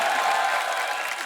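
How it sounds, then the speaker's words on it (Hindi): A studio audience at a comedy talk show breaks into loud applause to welcome film guests, a thick, continuous roar of clapping from a large crowd. "आप सबकी जोरदार तालियों के बीच प्लीज वेलकम"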